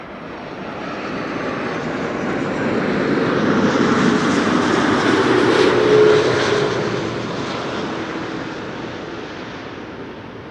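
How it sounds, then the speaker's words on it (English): A Turkish Airlines A330 arriving at Amsterdam Schiphol from Istanbul roars past, its broad engine rumble and hiss swelling to a peak midway and then fading slowly as it moves away. "this is Turkish Airlines flight 1951 arriving from Istanbul, Turkey"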